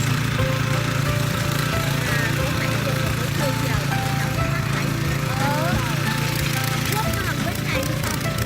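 Harrow machine fitted with a 170 petrol engine running under test, a steady loud chugging engine drone with a rhythmic low pulse throughout, accompanied by scattered clanks and knocks and occasional voices in the background.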